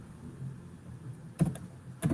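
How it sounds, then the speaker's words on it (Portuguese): A couple of sharp keystrokes on a computer keyboard, the Enter key pressed, faint and close, over a quiet room hum. "é porque eu estou dando um enter"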